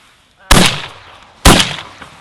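Two sharp, loud shotgun blasts fired at mallard ducks during an outdoor duck hunt over decoys, about a second apart, each with a short ringing decay, plus a faint thump near the end.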